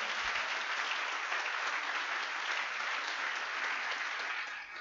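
A church congregation applauds in praise of the Lord, steady dense clapping from a large crowd that holds at an even level throughout and eases slightly at the very end.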